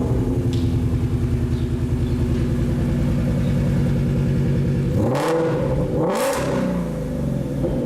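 An 825 HP Sutton Mustang CS800 on a track, its engine droning loud and steady with a rough rhythmic pulse, then revving sharply up and down twice in quick succession near the end.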